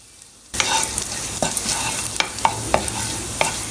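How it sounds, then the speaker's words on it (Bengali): Chopped garlic hits hot oil and breaks into a loud, close sizzle, with repeated spatula scrapes and taps as it is stirred toward brown. "এটা কিছু সময় ধরে আমি এভাবে নাড়াচাড়া করতে থাকবো যতক্ষণ পর্যন্ত না এটা ব্রাউন কালার হয়ে যাবে"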